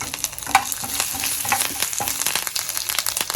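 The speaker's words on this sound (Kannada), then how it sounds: "ಉದ್ದಿನಬೇಳೆ 1 ಸ್ಪೂನ್ ಹಾಕ್ತೀನಿ, ಕಡಲೆಬೇಳೆ 1 ಸ್ಪೂನ್ ಹಾಕ್ತೀನಿ, ಮತ್ತು ಕರಿಬೇವು ಸೊಪ್ಪು ಚೂರು ಹಾಕ್ತೀನಿ, ಇಂಗು ಚೂರು ಹಾಕ್ತೀನಿ ನೋಡಿ" Urad dal, chana dal, curry leaves and asafoetida temper in hot oil for mango chitranna, giving a dense, steady crackle and spatter with sharp pops throughout and no voices.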